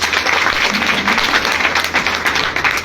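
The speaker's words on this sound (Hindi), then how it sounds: "एक बार ताली बजा दीजिए साहब।" Audience applause at a Hindi-language RCM business plan seminar, a steady dense wash of many hands clapping together, loud and close, sustained evenly without breaks.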